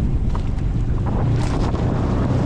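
Strong wind buffets the microphone over a deep, continuous rumble of fishing boat and water noise on a rough sea with big waves, loud and unbroken throughout.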